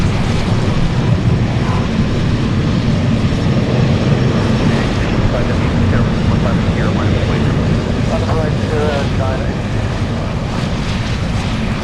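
A continuous, loud jet engine roar from a China Boeing 747 lining up on the runway at Anchorage airport, heard at a distance with a faint voice in the background.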